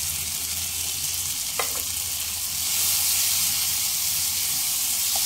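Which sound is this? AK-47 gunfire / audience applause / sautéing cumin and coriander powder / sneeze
sautéing cumin and coriander powder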